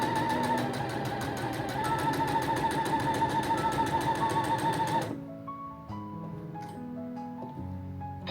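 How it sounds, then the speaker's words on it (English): A sewing machine stitches a fabric scrunchie with a fast, even mechanical whir and tapping that runs for about five seconds and then stops. Quieter, tonal background sounds follow. "I'm just gonna let this machine run on to my next one."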